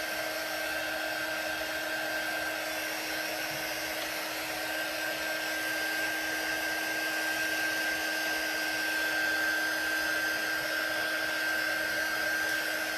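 A hair dryer blowing on a handmade scarecrow craft, a steady unbroken whine with a fixed tone, running evenly throughout with no speech.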